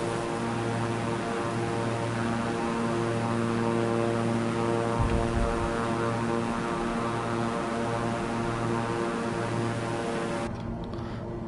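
Beechcraft aircraft engine in Microsoft Flight Simulator 2024, a loud, steady droning propeller hum with strong harmonic tones that holds constant and then drops away abruptly near the end, with no talk.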